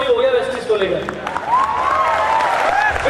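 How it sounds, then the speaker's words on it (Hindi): A crowd claps loudly for a speaker at a Vestige success-story event, the applause running throughout while a voice talks over it and several raised, drawn-out shouts rise above the clapping. "शिवम सर के लिए जोरदार ताली"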